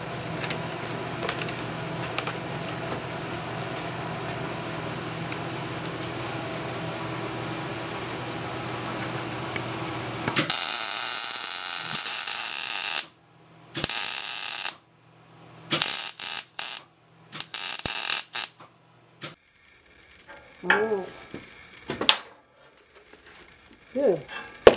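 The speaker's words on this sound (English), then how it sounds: "now I'm ready to weld" A metal bracket is welded onto an edge: a steady machine hum gives way to several loud, crackling bursts of arc noise separated by short silences, and a voice is heard briefly near the end.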